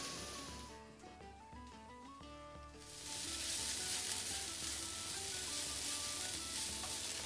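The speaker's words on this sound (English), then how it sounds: "So we are just going to let this saute for another couple of minutes" Corned beef hash sautéing in a pan, a steady close sizzle and frying hiss that swells louder partway through and continues without pause, with no talking.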